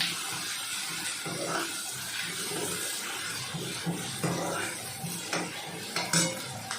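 Ginger, garlic and chili paste roasting with onions in hot oil in a home kitchen, heard as a soft steady sizzle with light clinks of a spoon against the pan and occasional stirring scrapes.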